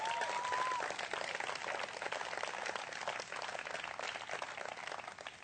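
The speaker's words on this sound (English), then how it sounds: "So please give them a big round of applause." A backyard crowd in Des Moines, Iowa, claps steadily at an outdoor political rally with President Obama, a sustained, fairly even wash of applause with a brief whistle at the start.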